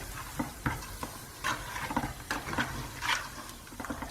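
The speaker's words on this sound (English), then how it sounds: "I'm just going to mix this for about 2 minutes so that the yogurt cooks a" A spoon stirs yogurt into a pot of mutton rogan josh, making repeated wet scraping and squelching strokes in an irregular rhythm, close and moderately loud, with a faint sizzle underneath.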